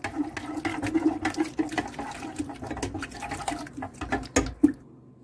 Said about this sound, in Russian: Тоже обдаю кипятком.